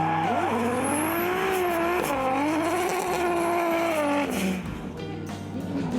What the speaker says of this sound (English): Taking out 9th place was Wellington-based Shane Giles in the 2JZ-powered BuyTools Online Nissan S14.